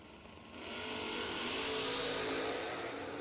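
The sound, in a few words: drag racing cars revving and accelerating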